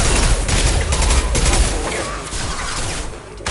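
Heavy sustained gunfire in the video game Mass Effect 2, a loud dense barrage of shots and impacts throughout, easing slightly near the end.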